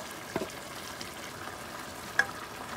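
Onions frying in a pan, a steady soft sizzle with a couple of brief clinks or stirs near the start and one sharp tap near the end, quiet and without talk.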